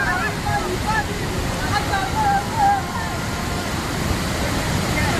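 A cold-water waterfall at Hohwa roars steadily and broadly while people bathe nearby, with voices and a few faint, high chirps cutting through the rushing water.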